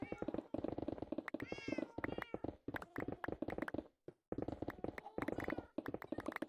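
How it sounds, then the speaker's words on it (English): Repeated close meows from cats in a Minecraft-style video game, a rapid overlapping series of loud mews broken by short pauses, alone without talk. "I hear the cats above my head."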